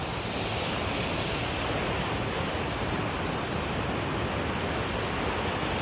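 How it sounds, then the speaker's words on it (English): River flowing directly out to the bay, heard as a steady, broad rushing wash that stays constant and fairly loud throughout, with no voices. "this river flows directly out to the bay"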